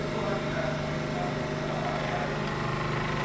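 A hydraulic hose crimping press runs steadily, crimping 1-inch 4SH hose rated for 380 bar working pressure, with a continuous motor hum holding constant throughout at moderate level.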